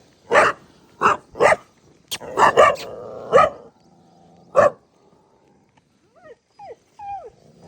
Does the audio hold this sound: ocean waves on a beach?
no